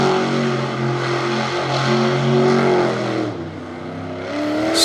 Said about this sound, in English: Smoking up those Firestones as he spins the truck around here on the tarmac.